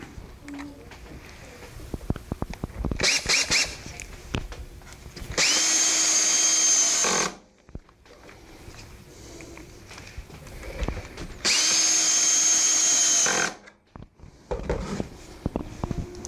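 A power drill drives stainless steel fasteners in two loud sustained bursts of about two seconds each, with softer handling clatter and knocks between them.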